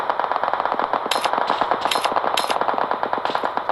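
Rapid automatic gunfire in a battle royale video game match, a dense string of loud close shots with sharp echoing cracks layered over the constant rattle.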